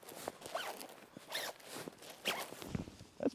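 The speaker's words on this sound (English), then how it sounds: "Let's try out these zippers." Zipper on a Luxe Twinpeak hot tent being opened and closed in a few quick, smooth strokes, close and fairly quiet, with faint rustling of the fabric between pulls.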